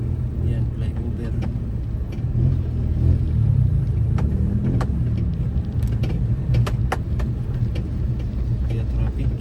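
Heavy road traffic crawling past a flyover under construction: a continuous low rumble of engines with scattered clicks and knocks, while someone talks over it throughout.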